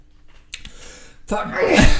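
Quiet breathing and small sounds lead into a sudden, loud sneeze burst near the end, close to the listener.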